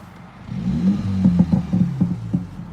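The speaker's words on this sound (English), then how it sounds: "I'm hoping you guys can hear this when I rev the engine" A 2019 Mini Clubman S fitted with a JCW Pro exhaust and JCW tuning kit revs in a series of short, close blips over a steady idle, with no talking.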